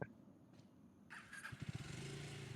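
A motorcycle in Farming Simulator 25 sits quiet at first, then its engine catches and settles into a low, pulsing idle, faint and close with no speech.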